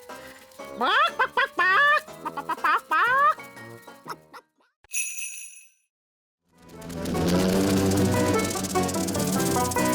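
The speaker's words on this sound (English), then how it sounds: "Nanny Plum, could you ask Mrs. Chicken to deliver an egg for breakfast tomorrow?" A cartoon chicken from Ben and Holly's Little Kingdom clucks in quick, bright bursts, followed by a short chime, a pause and then background music.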